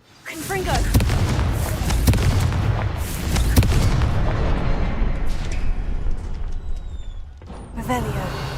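Booming blasts from the Confringo blasting spell in Hogwarts Legacy thud repeatedly over a rumbling background, several sharp impacts across the span, with a voice briefly audible.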